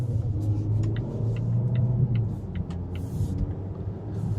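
A Volvo S90 T6 Momentum on the road gives a steady, low engine rumble heard from inside the cabin, with light, regularly spaced clicks sitting above it.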